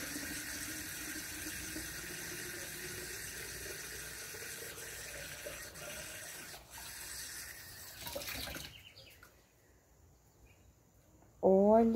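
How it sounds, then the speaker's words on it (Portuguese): Water runs from a tap into a container in a steady rushing stream, mixing coffee grounds into organic plant fertilizer, then stops, leaving near silence before a short voice at the end. "Agora eu vou encher de água."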